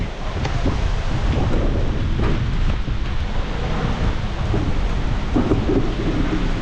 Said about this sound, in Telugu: వర్షం కూడా వచ్చేస్తుంది ఇక్కడ.